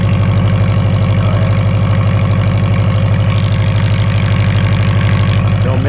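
A 1981 Subaru EA engine idles after start-up with a steady, even low rhythmic thrum close by, running smoothly and loud, with faint mechanical ticking on top and a voice speaking briefly toward the end.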